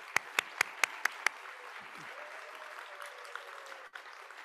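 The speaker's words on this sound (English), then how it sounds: "Please join me in one final round of applause for all of the Shingo alumni." A half-dozen sharp, evenly spaced claps ring out close by at an awards gala, followed by a faint, diffuse murmur of distant clapping and room noise.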